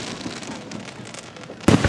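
Fireworks at Gettysburg rumble and echo faintly across the valley between the ridges, then one sharp, loud boom bursts close at the end.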